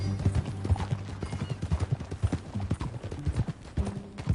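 Horse hooves clip-clop steadily in Red Dead Redemption 2, a brisk, close, rhythmic trot of hoofbeats that runs throughout with no voices over it.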